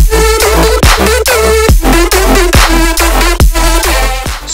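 Future riddim electronic dance drop played clean without master compression, loud and continuous, with repeated punchy bass hits, pitched sweeps and a steady driving rhythm.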